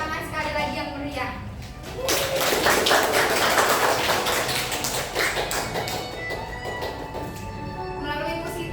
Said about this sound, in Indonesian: Berikan tepuk tangan sekali lagi yang meriah.